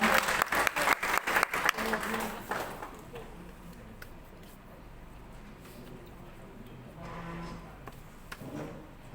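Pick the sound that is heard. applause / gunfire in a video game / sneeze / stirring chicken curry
applause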